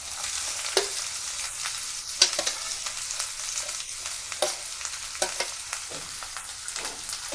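Chillies, green beans and capsicum sautéing in hot oil, a steady close sizzle broken by sharp clicks and scrapes of a spoon stirring against the pan.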